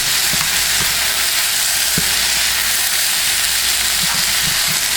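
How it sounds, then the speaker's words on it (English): Shrimp fried rice with soy sauce and egg stir-fried in a pan, a loud steady sizzle throughout with intermittent scraping and clacking of a utensil breaking up the rice. "As you can see, the shrimp is continuing to cook."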